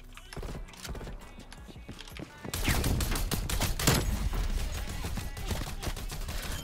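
DMR gunfire in a shooter game: rapid sharp shots, sparse at first, then a dense, louder burst of repeated cracks over continuous game noise.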